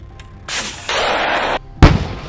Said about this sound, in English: The TOW anti-tank guided missile.